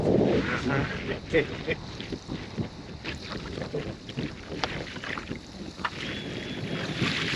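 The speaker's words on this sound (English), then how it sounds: "Small wind even comes through the lake." Wind gusting over a lake during fishing from a boat, with steady rushing buffets against the microphone, water slaps and scattered knocks, while a person speaks in the background.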